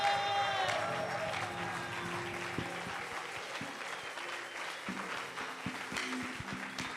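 A church conference congregation claps in sustained, dense applause that fills the room, a steady wash of many hands with a few scattered louder claps and faint crowd murmur underneath.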